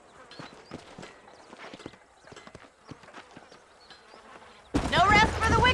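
Horse hooves clip-clopping in the video game Red Dead Redemption, a steady uneven patter of soft hoof beats under outdoor ambience, then a voice speaking loudly at the end.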